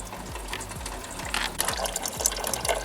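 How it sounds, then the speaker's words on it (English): Dark green Kia coolant draining from a Kia Forte radiator with the cap opened, a continuous splashing, gurgling flow of liquid heard close, with repeated low pulsing surges. "when you open the cap, the coolant will start draining faster"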